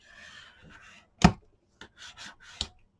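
Paper being burnished down onto a mini album page, a few short scraping rubs close by with quiet pauses in between and one sharper stroke standing out.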